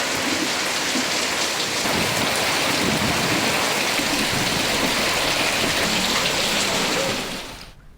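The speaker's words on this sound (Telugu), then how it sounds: "తూర్పుగోదావరి జిల్లా రాజమండ్రిలో భారీ వర్షం కురిసింది." Heavy rain pours down in Rajahmundry, East Godavari district, a dense, steady hiss of water hitting surfaces that holds constant and then fades out at the very end.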